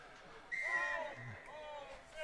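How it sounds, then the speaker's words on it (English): A referee's whistle at the start of a rugby match, sounding as a few thin, wavering whistle tones heard faintly from a distance over a low crowd murmur. "Mitch Young's about to blow the whistle."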